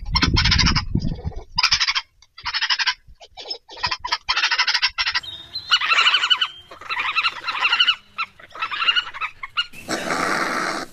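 A voice makes rough, buzzy honking noises that imitate passing gas, in a loud series of bursts with short pauses between them.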